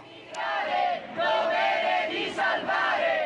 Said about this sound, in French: à l'extérieur, des manifestants donnent de la voix